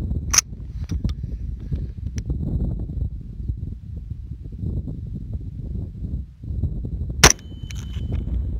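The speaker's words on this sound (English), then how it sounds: "we're going to be shooting the same XM80 out of a 16-inch 308" A .308 rifle with a 16-inch barrel fires an XM80 round into a multi-curve body armor plate backed by ballistic clay at 20 feet, giving two sharp, loud cracks several seconds apart over steady outdoor background noise.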